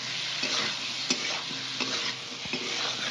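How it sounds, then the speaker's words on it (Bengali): Turmeric and chili powder stirred in a pan: a soft, continuous sizzle with a few distinct scrapes and clinks of a spoon against the pan, close and without speech. "1/2 চামচের মতন হলুদ গুঁড়ো, 1 চামচ লঙ্কার গুঁড়ো দিয়ে নাড়াচাড়া করে দেবো"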